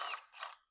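A wrench ratchets during a BMW M57 diesel engine teardown, two quick faint clicking bursts of the pawl in well under a second.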